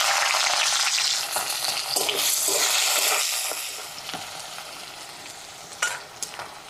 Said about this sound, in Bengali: পেঁয়াজ হালকা ভাজা করে নিয়েছি।